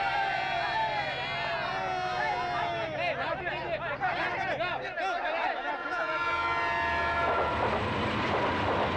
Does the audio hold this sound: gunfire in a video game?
no